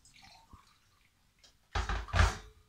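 Water splashes and gurgles as it is poured from a measuring cup into an egg cooker in a short burst, after a few faint clinks and drips, close by.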